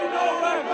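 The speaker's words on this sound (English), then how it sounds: "and shouting their audacious chants." A protest crowd of about a thousand NCYL supporters in South Africa shouts a chant in unison, a dense, loud burst of many voices heard briefly.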